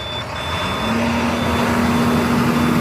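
An ambulance truck engine idling steadily, then revved to a higher, sustained high idle with a constant tonal drone, close and loud, alone without talk.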